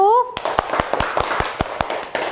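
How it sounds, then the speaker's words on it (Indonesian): A classroom group claps in a steady, evenly spaced rhythm of about nine sharp, loud claps, following a brief voice at the start. "Tepuk tangan untuk kelompok 1"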